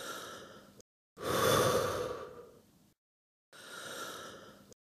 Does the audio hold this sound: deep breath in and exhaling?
yes